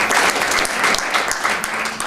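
A room of participants at a strengths workshop applauds one of their group, a loud, close burst of clapping that swells and dips slightly over two seconds, with no voices.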